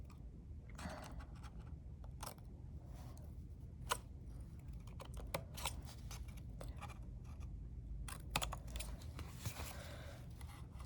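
Scissors snip through paper at a 45-degree angle toward a corner while making a smash book, giving a series of quiet, irregular close crisp cuts and rustles over a soft background hiss.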